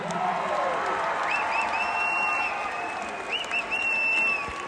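Applause from an audience at a Coney Island freestyle beach house music event breaks out for a performer, steady clapping mixed with a few whoops and voices, rising slightly toward the end.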